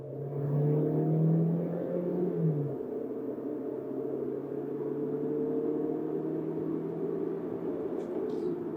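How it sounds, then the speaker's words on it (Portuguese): Ford Territory or Chevrolet Equinox SUV launching hard from a standstill, engine note rising steadily as revs climb, loud and close with a continuous rumbling drone; no clear tyre squeal stands out. "acelerando, ó. Você vê que o giro sobe mais, saindo, canta até um pouquinho de pneu"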